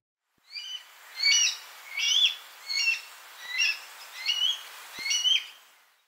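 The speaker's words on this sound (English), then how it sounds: "Here's what a baby blue jay sounds like babbling." A baby blue jay babbles through a series of about seven short bursts of varied chirps and squeaky notes, clear and close against a quiet background.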